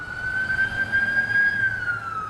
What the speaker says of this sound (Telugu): అమెరికాలో సైరన్, అంబులెన్స్ సైరన్ వినబడితే న్యూయార్కులో శబ్దం విన్నవాళ్ళు గజగజలాడిపోతున్నారట